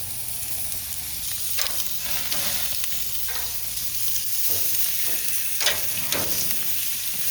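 Ingredients for beef birria charring in a hot pan, a continuous close sizzle and hiss with occasional scraping stirs and bursts of spatter as pieces are turned.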